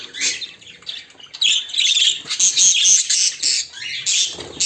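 Young birds squawk in a crowded aviary holding ten to twelve birds, a loud, near and continuous chorus of harsh squawks and chirps with no talk.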